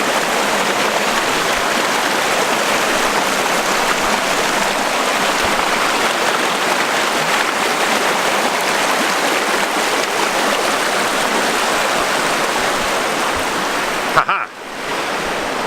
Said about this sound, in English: Don't mind me while I ford the creek.